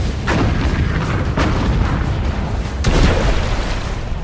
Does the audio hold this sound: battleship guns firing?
yes